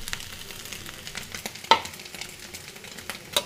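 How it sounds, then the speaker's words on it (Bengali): Potatoes and fish roe frying in a pan and being stirred, with a faint, steady sizzle, a few soft scraping strokes and one sharper clatter midway. "আর একটু নাড়াচাড়া করলেই আলু ভাজা কমপ্লিট হয়ে যাবে"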